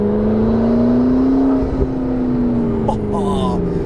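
A McLaren 650S Spider's twin-turbo V8 whirs with a steady rising engine drone, then short fluttering turbo chatter and hiss near the end, loud and close.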